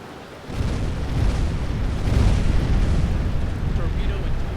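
Deep, rumbling booms of depth charges going off very close in the submarine game UBoat, a low sustained roar swelling after a sudden onset, with faint game voices beneath.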